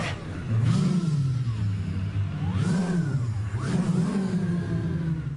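People imitate car engine noises with their voices, a continuous rising and falling vocal drone like revving and accelerating cars, loud and sustained for several seconds with no words spoken.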